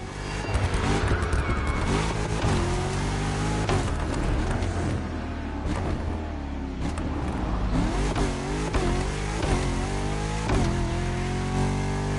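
Race car engines in The Crew Motorfest rev hard and loud throughout, with repeated rising and falling pitch sweeps from gear changes and acceleration, and occasional tire squeal, close up with no talk over them.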